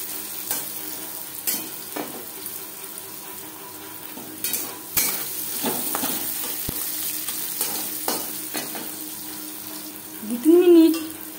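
Carrots and jackfruit seeds fry in a pan, a soft continuous sizzle punctuated by repeated clinks and scrapes of a spatula, with a short louder clatter near the end.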